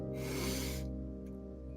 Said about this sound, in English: We're then going to take a deep breath in together